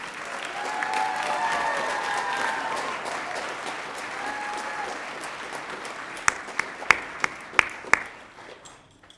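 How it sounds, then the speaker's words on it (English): An audience claps steadily for several seconds, then the applause thins out into a handful of sharp, separate claps before fading. "Please give our scholars one more round of applause."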